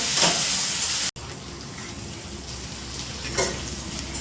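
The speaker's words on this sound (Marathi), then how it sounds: "थोडंसं आलं घेतलं मी आणि थोडंसं लसूण पाकाय घेतले हे सर्व मस्त आता पाच मिनिट आपण फ्राय करून घेऊ" Ginger and garlic fry in a pan with a loud, steady, close sizzle that carries on throughout, broken by one brief cut about a second in, with no voices.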